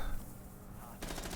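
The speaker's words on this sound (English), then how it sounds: "He is shooting, suppressing fire, is getting shot at." Rainbow Six Siege gunfire, a faint, muffled burst of rapid shots followed by a louder burst near the end.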